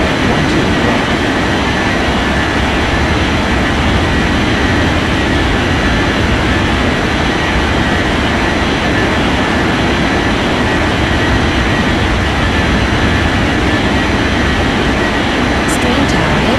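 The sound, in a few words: airplane taking off from runway 12 right in Unmatched Air Traffic Control game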